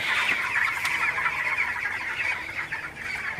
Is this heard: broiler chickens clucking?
yes